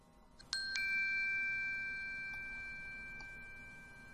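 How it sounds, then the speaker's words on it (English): A bell sound file plays back from a Processing sketch using the Minim library: one clear struck ding with a bright ringing tone that lingers and slowly fades, with no talking. "we have everything we need set up to play back our bell.wave audio file as soon as we hit run"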